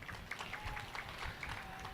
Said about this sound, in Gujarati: વધાવો જોરદાર તાળીથી ભાઈ